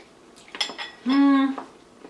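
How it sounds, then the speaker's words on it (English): A spoon clinks and scrapes against a bowl as vanilla kefir yogurt is stirred into cinnamon breakfast quinoa, with a few brief clatters and one sustained ringing tone from the dish, nearby and fairly quiet. "I'm just mixing it all in now"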